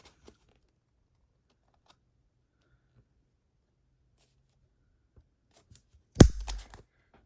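A hole punch cuts a 1/8 inch hole through paper in one short, crisp crunch near the end, following a long quiet stretch of faint handling sounds.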